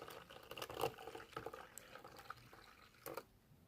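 Two cups of water poured into a milk-based cooking mixture, a soft trickling and dripping splash heard close and quiet, with small liquid taps and gurgles fading toward silence at the end.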